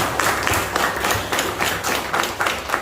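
An audience at a health talk applauds for Edi Suwandi. Many hands clap at once in a fairly loud, sustained round with a loose rhythmic pulse that swells and dips steadily throughout.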